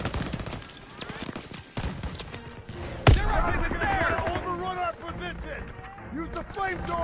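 Sustained gunfire crackles through a World War II battle in the video game Call of Duty WWII, dense bursts layered under shouted commands, with a sharp loud blast partway through followed by continued firing and voices.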